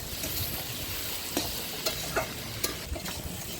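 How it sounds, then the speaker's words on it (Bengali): Potatoes, onions and tomatoes fry in a pan at an outdoor stove during stormy rain, making a continuous sizzle broken by several sharp scraping stirs of a spatula. "আলু পেঁয়াজ টমেটো সব ভাজা ভাজা হয়ে গেছে।"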